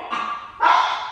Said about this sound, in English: the neighbor's dogs are barking